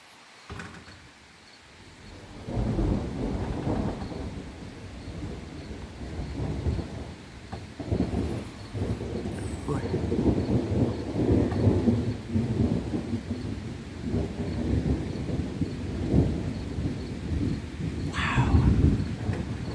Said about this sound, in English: Lightning and thunder. It's still rolling through the valley.